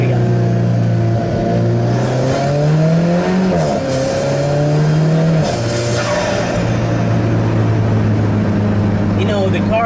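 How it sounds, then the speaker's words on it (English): Alfa Romeo 4C fitted with a Go Pedal Plus throttle controller, its engine rising loudly in pitch after a downshift to second, revving up in repeated climbing sweeps close by inside the cabin. "we're gonna downshift a bit here. We'll go to second."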